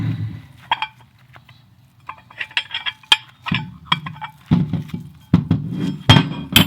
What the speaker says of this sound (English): it's time to get these clamps off and check out our baits